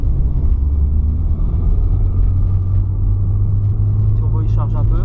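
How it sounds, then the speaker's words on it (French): BMW 318is with a turbo fitted and no engine map, driving with a loud, steady low engine rumble and faint rising turbo whistle near the end, with voices talking over it. "Turbo, il charge un peu."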